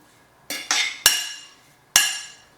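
A metal utensil clinks and scrapes against a pan while garlic and green chillies are stirred into pork, four sharp knocks in quick succession with short ringing tails and no talk.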